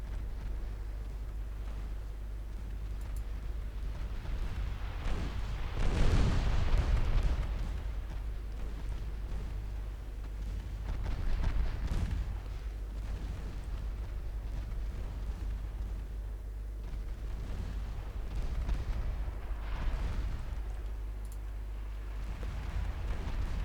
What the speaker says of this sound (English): Now it's taking fire from two directions.